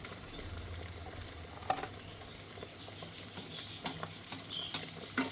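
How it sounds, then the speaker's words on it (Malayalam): Pathiri, a Kerala flatbread, deep-frying in hot oil gives a continuous crackling, bubbling sizzle at low level, with scattered sharper pops and spatters throughout and no voices. "ഇതുപോലെ എല്ലാം പൊരിച്ചെടുക്കുക."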